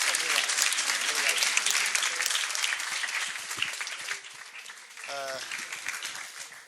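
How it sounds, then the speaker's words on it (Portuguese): An audience gives a sustained round of applause that slowly thins out, with a brief tonal sound and a voice emerging near the end. "Mais uma salva de palmas"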